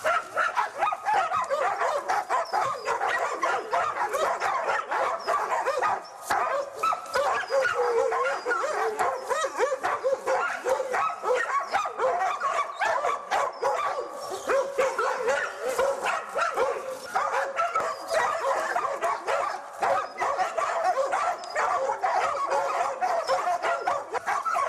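Uran, a hunting dog, barks during a sable hunt in pursuit of a marten. The barking is loud, rapid and nearly unbroken for the whole stretch, with no voices over it.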